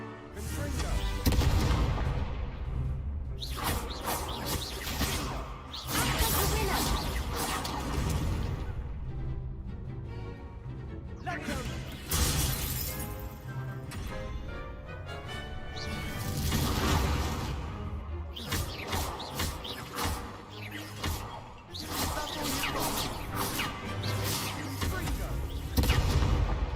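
Repeated spell blasts from Confringo, the fire spell in Hogwarts Legacy, boom out loudly amid a dense, continuous game battle mix of impacts and whooshing effects that runs unbroken throughout.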